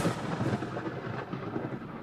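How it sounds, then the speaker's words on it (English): Thunder from a nearby lightning strike during a supercell near Amarillo, Texas: a continuous low rumble that holds steady for a couple of seconds, moderately loud with no voices. "I just had a lightning strike hit about 20 yards to my right."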